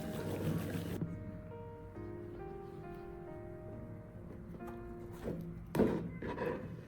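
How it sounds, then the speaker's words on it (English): A salad spinner whirls wet mugwort dry with a steady close-up hum and a faint trickle of water, then a few louder clatters near the end. "A few quick spins and this mugwort will be way drier in no time."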